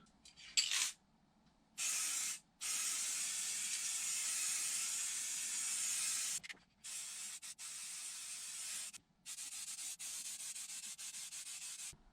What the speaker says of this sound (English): I'm going to give it just a final, slightly thicker coat